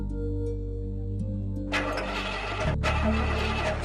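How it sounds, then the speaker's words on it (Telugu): A car engine cranks repeatedly without catching, with a steady low idle-like hum underneath and a burst of louder mechanical noise midway, fairly close. "బండి స్టార్ట్ అవ్వట్లేదండి."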